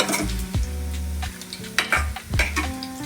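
Green chillies and onion fry in oil in a pan, with a steady close sizzle broken by several sharp scrapes and clanks of a spoon stirring against the metal, no voices.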